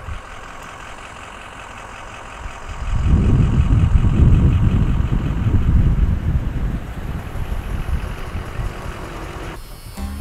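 A Peugeot 305 car drives along, its engine rising into a loud, low droning rumble mixed with road and wind noise for several seconds before easing back down.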